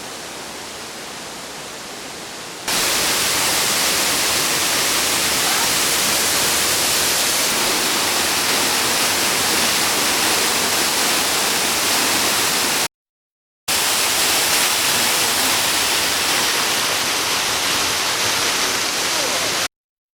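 A waterfall on the Isle of Skye, Scotland, roars as a dense, steady rush of water, loud and constant, broken once by a short gap.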